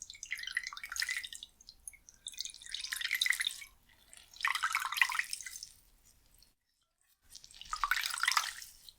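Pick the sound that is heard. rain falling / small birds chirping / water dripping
water dripping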